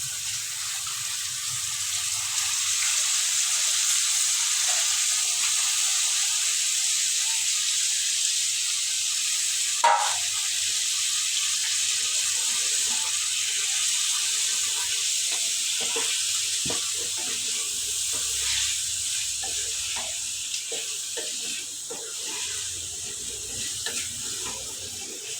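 Small beef-style meat pieces hiss and sizzle steadily in a hot pan, a continuous broadband frying noise with one sharper pop near the middle and no talking.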